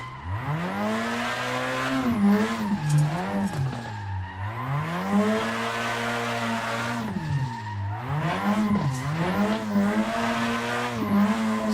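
A drifting car's engine in Assetto Corsa 2 wails up and down in pitch, revving hard and dipping repeatedly, with tire squeal layered over the steady roar.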